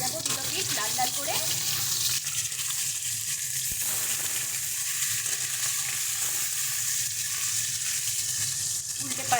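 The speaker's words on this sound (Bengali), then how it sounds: "ভালো করে মাছগুলোকে ভেজে নেব, দুটো পিস লাল লাল করে" Pieces of catla fish frying in hot oil in a home kitchen, giving a steady, dense, close sizzle that runs unbroken throughout at a constant level.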